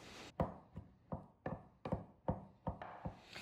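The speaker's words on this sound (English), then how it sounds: "Now I'm chopping the eggs fairly finely because I don't want big pieces of egg white in my mini croissant egg salad sandwiches." Boiled eggs chopped finely with a knife on a board: about nine crisp, evenly spaced taps, close and quiet, each with a short thud underneath.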